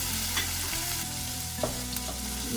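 Garlic hitting translucent onions and pepper in a hot pan with olive oil, a steady close sizzle with a few soft stirring scrapes and a brief burst around the middle.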